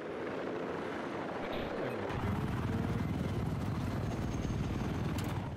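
An enemy helicopter flies overhead in the video game Battlefield 4, a dense rotor and engine drone that swells and holds steady, loud and continuous across the scene.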